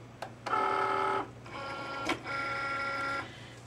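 A Cricut Maker cutting machine loads a sheet of gray vinyl in two bursts of whirring motor hum with tonal whine, each lasting about a second, close up and without speech.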